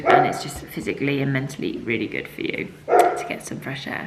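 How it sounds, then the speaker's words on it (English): A dog barks a few times through an open door in the background, intermittent and fairly distant, while someone talks steadily over it in the foreground. "Sorry if you can hear the dog barking, I've got the door open there"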